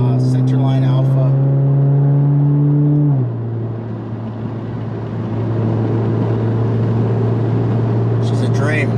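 An Alfa Romeo Giulia with an ECU tune, downpipe and full 3-inch exhaust drones loudly and steadily while driving, its exhaust note dropping in pitch partway through as it shifts, then holding a low, even hum.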